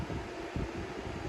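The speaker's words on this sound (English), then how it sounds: "I want to apologize for the fan noise." Electric fan running in a workshop, a steady close whooshing rush of air with a low broadband hum, unchanging and alone.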